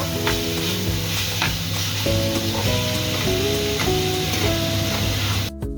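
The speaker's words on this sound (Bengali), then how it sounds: "আলুর সাথে চিকেনটা ভালো করে ভেজে নেব" Small pieces of chicken frying with potatoes in a pan, a loud dense continuous sizzle with stirring beneath it, close and steady until it cuts off abruptly at the end; tonal hum runs through the background.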